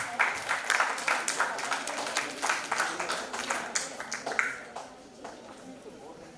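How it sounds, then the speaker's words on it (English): Applause from the audience at an award ceremony, a loose patter of claps that thins out toward the end, with some voices mixed in. "Can we have a round of applause for him, please?"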